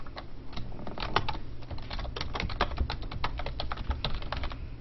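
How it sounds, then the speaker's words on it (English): Steady, rapid typing on a computer keyboard while a message is entered into an online forum text field, with dense, close clicking keystrokes running without pause and no speech. "I'm just typing in this message text field"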